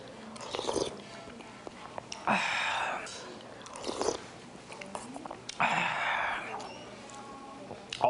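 Close, sticky chewing of chewy potato dumplings with soft smacking in two bursts, quiet pauses between bites, no talking.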